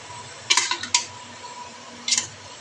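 Soaked rice and vegetables are gently stirred in a pot, giving a few short bursts of metallic clinks and scrapes from a spoon against the pot, separated by near-quiet gaps.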